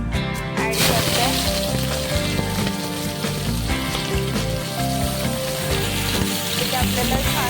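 Finely chopped onion hitting a hot pan for a village-style ghati chicken sukka, a constant loud sizzle and frying crackle running steadily throughout with music playing alongside.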